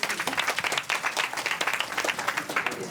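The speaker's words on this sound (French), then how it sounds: "je vous applaudis bien fort" A small audience claps for a finalist at Castel Live Opéra auditions in Côte d'Ivoire, with dense, uneven clapping that rises and falls in quick pulses at moderate volume and no voices over it.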